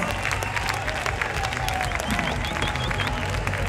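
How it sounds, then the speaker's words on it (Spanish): Concert audience at a show, Festival Brincadeira in Ordes, A Coruña, applauding and cheering steadily and loudly throughout, a dense wash of clapping with crowd noise and faint voices mixed in. "Un aplauso para el Robert"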